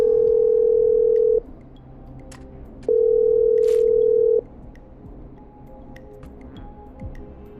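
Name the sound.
telephone dial tone from the video game Killer Frequency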